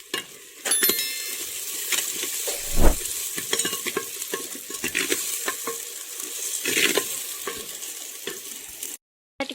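Ground spice paste for a country chicken curry frying in a clay pot, a steady sizzle broken by repeated stirring scrapes and light clinks of a spoon against the pot, close and alone with no talk.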